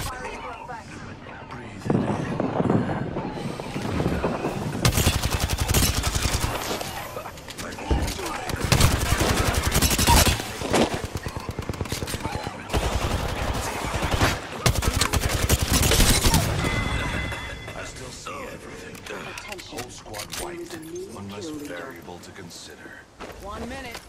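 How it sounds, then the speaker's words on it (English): Rapid automatic gunfire erupts in dense, sustained bursts during a firefight in Apex Legends, loud and close for most of the stretch before tapering off, with players talking over the shooting. "Firing for effect."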